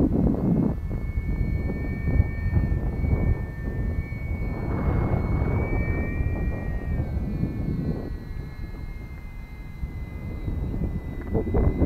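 A radio-controlled model airplane engine runs at quarter throttle, a steady buzzing drone with a thin high whine that holds close and loud throughout, wind rushing past the microphone.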